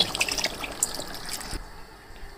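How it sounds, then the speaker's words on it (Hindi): Water poured from a mug into a pot of white chicken pilau, with ghee on top, making a steady close trickle and splash that stops after about a second and a half. "अब इसमें 5 मग मैं पानी के डालूंगी इसमें।"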